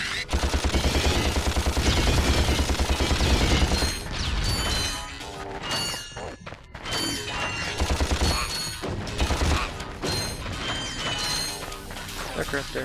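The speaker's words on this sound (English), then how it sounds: "I need to use the blaster." Blaster gunfire rattles in the Ratchet & Clank HD video game as dense rapid bursts over busy game effects and music. The shooting thins out partway through, and a player briefly speaks.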